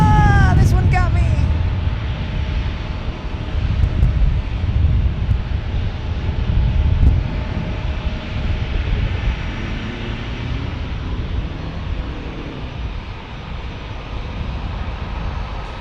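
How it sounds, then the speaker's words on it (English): A Gulfstream business jet passes directly overhead at a busy airport, a loud broadband roar that gradually eases as it moves away. "Whoa, Gulfstream in the house, right over my head."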